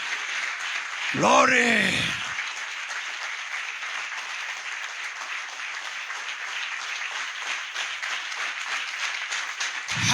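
A church congregation applauds loudly and steadily for about ten seconds, a dense continuous wash of clapping, with a singing voice exclaiming briefly near the start.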